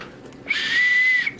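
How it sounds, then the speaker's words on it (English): A short whistle blast like a ship's whistle gives one steady, shrill, sustained tone lasting about a second, close by and alone. "that whistle makes that noise"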